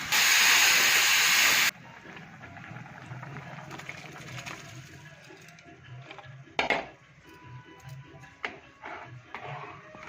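A loud, sharp hiss of steam bursts from a pressure cooker whistle for under two seconds, then cuts off, leaving a quiet room with a few soft clatters.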